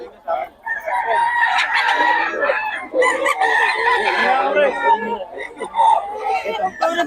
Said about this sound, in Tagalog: Ang paipoy ng manok.